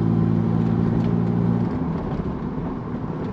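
A BMW 325i E30 accelerates onto a dual carriageway. The inside of the car is filled with a steady, loud engine drone that gradually rises in pitch, with road and wind noise in the background.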